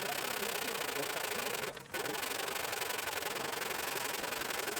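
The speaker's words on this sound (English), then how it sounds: "we're going to grind out our handle on the 2x72" Maple wood for a hammer handle grinds against a belt on a 2x72 belt grinder, making a continuous, close abrasive rasp that dips briefly once before resuming, with no voices.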